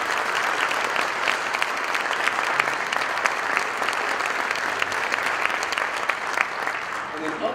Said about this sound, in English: So big round of applause for those kiddos.